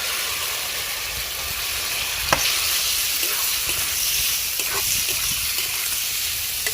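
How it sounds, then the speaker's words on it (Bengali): Fried potato and eggplant sizzle steadily in a spice mix for a fish-curry side dish, a constant close frying hiss with a few faint clinks of stirring and no talk. "ভেজে রাখা আলু বেগুনটা এবার এই মশলার মধ্যে দিয়ে দিব।"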